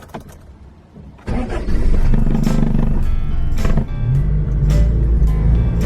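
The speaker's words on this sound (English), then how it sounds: "See, I'm just adding a little bit of gas, just kind of boom boom." A vintage JDM car engine just restarted after stalling, caught quietly at first and then idling loud and close as gas is added in rough, uneven surges, with no talk over it.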